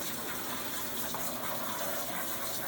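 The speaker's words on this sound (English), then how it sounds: "You can use your sprayer. You just want to get all that color out of there." A kitchen sink sprayer rinses dye out of synthetic curtains, a steady hissing gush of water close by, continuous and even throughout.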